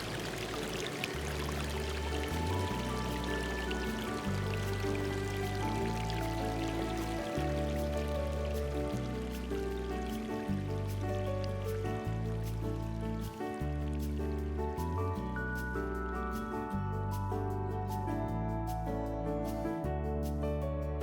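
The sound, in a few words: waterfall, falling water in Bali jungle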